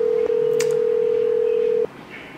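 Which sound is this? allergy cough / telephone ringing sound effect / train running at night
telephone ringing sound effect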